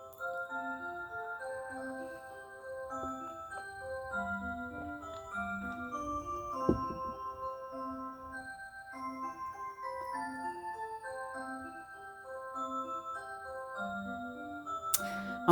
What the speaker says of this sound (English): there goes my clock